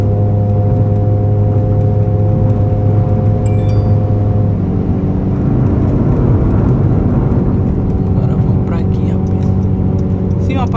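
A 2.0-litre Honda Civic LXR engine drones steadily from inside the cabin, its hum shifting in pitch partway through as the car speeds up to overtake a truck, with a faint rushing road noise.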